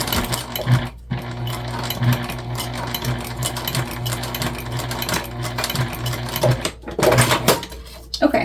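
A sewing machine backstitching a seam on a mini backpack runs in a steady close mechanical whir with rhythmic thumps, briefly pausing near the start and again near the end.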